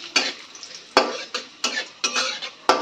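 Dried red chillies dropped into hot oil in a pan, giving sharp crackling sizzles in quick bursts with a few spoon scrapes and stirs between them, close and clear with no talking.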